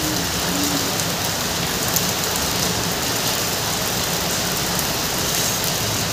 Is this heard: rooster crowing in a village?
no